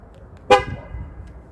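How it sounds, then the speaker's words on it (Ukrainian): A single short Ford car horn toot as the smart key locks the doors and arms the alarm, loud and close, followed by a quiet outdoor hush. "авто робить сигнал, це воно становиться на охорону"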